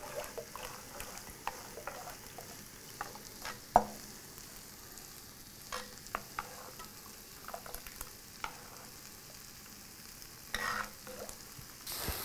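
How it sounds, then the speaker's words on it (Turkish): Flour roux is poured slowly and stirred into a pot of chicken soup, giving a steady low sizzle with scattered scraping stir strokes and small clinks, close and fairly quiet. "Yavaş yavaş döküp karıştıracağım yine de."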